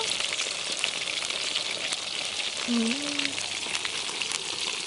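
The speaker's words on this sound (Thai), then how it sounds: "ค่อยๆทอดไปเรื่อยๆนะคะ โอ้ตัวเริ่มพองแล้ว" Palm weevil larvae deep fry in oil, giving a dense, steady crackling sizzle that runs throughout, with a brief faint voice-like tone partway through.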